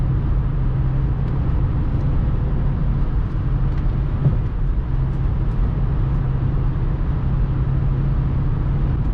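Inside a BMW X5 E53 with a 4.4 V8 engine cruising on the Autobahn near 140 km/h at about 3,400 rpm, a steady low engine drone blends with road and wind rumble, loud and unbroken throughout.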